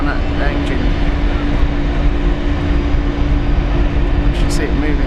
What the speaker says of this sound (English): As we've got an A220 warming up, it's starting up now.